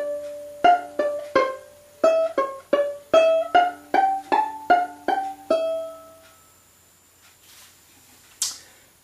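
Violin playing two lines of the reel Drowsy Maggie as a lesson demonstration, a run of about fourteen quick, evenly paced plucked-sounding notes close up, ending in a brief pause and one soft click.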